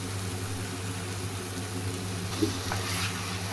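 Food frying in oil in a pan while cooking a jalfrezi: a steady, low sizzle that holds constant throughout, with one brief clink near the end.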